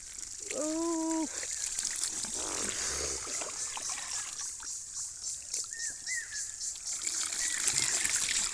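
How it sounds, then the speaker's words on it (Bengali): Water from a bucket trickles and splashes as it is poured out onto a village field in uneven spurts, with a brief voice-like tone early on and faint outdoor background. "এই যে এখন আমি ডালমু পানি"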